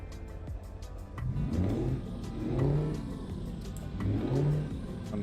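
A modded car engine sound in a driving video game revs up in three repeated surges, rising and falling in pitch, loud and steady with a synthetic, game-like tone, no interior sounds.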